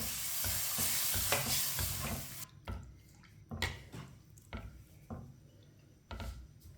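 Roasted vermicelli being stirred into milk in a pan on low heat, a loud wet scraping and sloshing that settles into intermittent spoon strokes and soft clinks against the pan.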